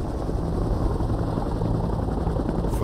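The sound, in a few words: helicopter flying, Vietnam War documentary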